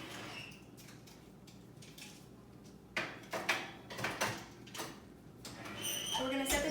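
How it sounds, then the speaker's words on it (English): Baking trays go into a home oven with a run of metallic clunks, scrapes and a door or rack sliding, several sharp knocks close by against a quiet room. "so now we're going to put these into the oven"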